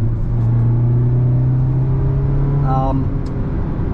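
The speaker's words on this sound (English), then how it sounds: "It really wants to rev, and it fits this tiny little lightweight sports car very, very well." A 2022 Mazda MX-5 Miata G184 with a sports chassis drives along while its engine gives a steady, loud, close droning hum, with a faint brief voice near the end.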